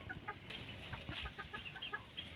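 A fighting rooster clucks and calls repeatedly at moderate distance over steady outdoor background noise, no talking.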